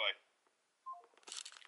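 A telephone being dialed gives a few quick, quiet keypad tones in a row, followed by soft rustling and handling noise.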